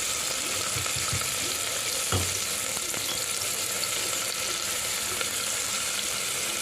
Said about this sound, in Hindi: तो पहले प्याज धो दिलिए, और सुनहरा हुआ तक ओकरा फ्राई करब।